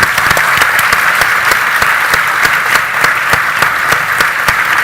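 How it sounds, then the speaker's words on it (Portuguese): An audience at a free speech debate event applauds steadily and loudly, dense clapping filling the whole stretch without any speech. "acho que merece umas palmas."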